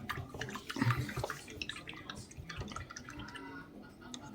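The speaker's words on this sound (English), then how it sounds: "I'm going to wash off my paintbrush real quick." Someone rinses a paintbrush in a pot of water, with soft sloshing, dripping and small splashes close by at low volume, all in irregular little bursts.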